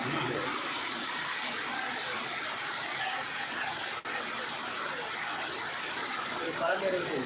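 Heavy rain pouring down with no wind, a dense continuous roar of water close by, steady and loud throughout with one brief dip, as people talk faintly under it.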